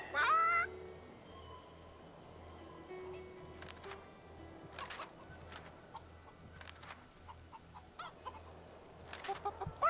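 A chicken clucks in the video game Divinity: Original Sin 2, with short bursts of fowl calls at the start and end over a low droning game ambience and scattered soft clicks.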